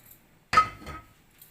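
Roasted peppercorns tipped onto a plate give one sharp, close clink followed by a short, fading rattle, with no voices.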